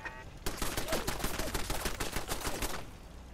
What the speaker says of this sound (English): Machine gun turret!